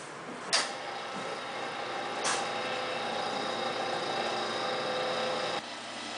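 A particle counter with its pump running while testing diesel fuel, a steady mechanical hum and whir with a couple of clicks early on, and no talking.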